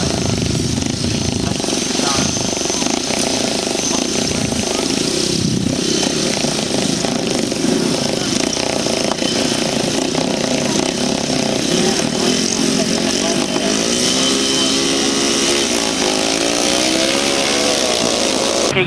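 Grasstrack motorcycles roar off the start at a 2002 Yeovil meeting, a dense blare of racing engines revving and rasping away, loud and continuous throughout with no talk over it.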